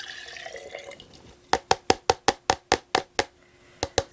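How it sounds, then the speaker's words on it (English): Evapo-Rust rust-removal liquid, used to clean tenor guitar tuning pegs, pours back into its container: a soft liquid rush, then a quick run of about a dozen sharp, evenly spaced drips or splashes, close and fairly loud. "Then I will pour this back in here."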